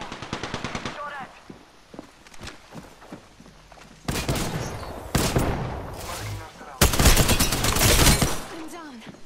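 Gunfire in Apex Legends: rapid automatic bursts crackle in quick succession, alternating with louder, dense volleys and sharp single shots, with footsteps and brief voice callouts mixed in.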